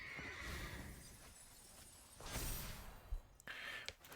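Horse neigh and whinny with clip-clop hooves, a synthesized effect from the Ostrich Horse card in a Magic Avatar draft video game, several whinnies followed by a sharp swish and hoof steps, moderately loud.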